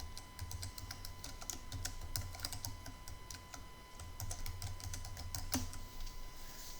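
Steady typing on a computer keyboard while entering slide text in Microsoft PowerPoint, with rapid close clicks and keystrokes running continuously through the whole stretch, alone without any talk.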